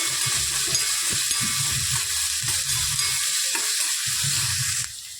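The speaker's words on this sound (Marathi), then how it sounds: "आता आपण ह्यामध्ये टाकूया एक मोठं चिरलेला कांदा कांदा छान परतून घ्यायचा आहे" Chopped onion frying in a pan for a soybean dry curry, a steady loud sizzle with stirring scrapes and soft clatters running throughout, close up and without speech.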